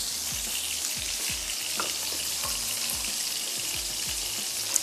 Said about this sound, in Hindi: पानी हम इसमें ऐड करने जा रहे हैं तकरीबन 1/4 कप।